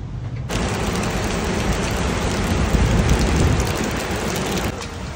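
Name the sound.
heavy rain from approaching thunderstorm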